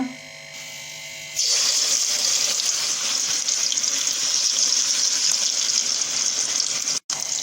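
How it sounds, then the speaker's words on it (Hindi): Masala-coated fish drops into hot oil and sets off a loud, steady sizzle that starts after a brief quiet moment and continues unbroken, with no talking. "अब इसको हम फ्राई करेंगे। ऑयल गरम हो चुका है।"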